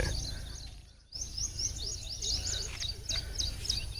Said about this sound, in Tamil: இந்த பறவைகள்லாம் இனிமையாக ஒலி எழுப்பிக்கிட்டு இருக்கு